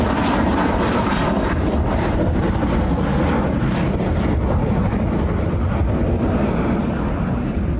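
Hawaiian Airlines airplane taking off at Honolulu airport, a loud, steady jet engine roar with broad rumbling noise and some wind buffeting, sustained throughout without speech.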